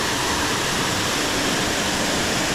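Buderim Falls waterfall pours in a steady, dense roar of rushing water, unbroken and fairly loud throughout, with no voices.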